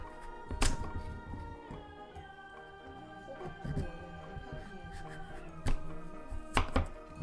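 A knife cuts a hard ingredient into rough pieces on a board, giving several heavy, irregular thunks over steady background music.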